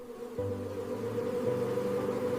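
Bees around a wild hive make a close, steady buzzing hum that begins abruptly and continues evenly, with no voices.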